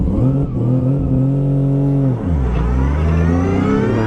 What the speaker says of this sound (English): Alright, time to warm up these tires.